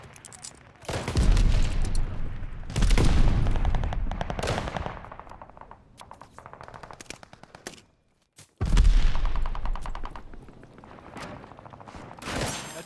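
Bursts of gunfire and explosions in the Call of Duty: Vanguard video game during a Domination match, with loud rapid fire, a brief near-silent gap and another heavy burst, plus a short game voice line.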